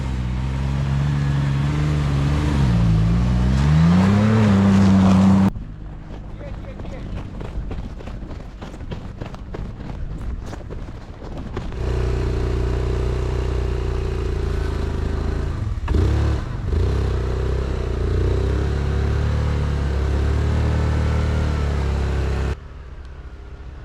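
A vehicle climbs a wider stretch of remote British Columbia backcountry road, its engine loud and revving hard at first, then dropping to a rougher, quieter running sound before rising again to a sustained drone.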